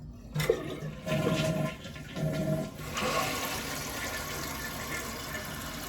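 A toilet with a newly replaced flush handle flushes nearby, a click followed by rushing, gurgling water that settles into a steady refill hiss.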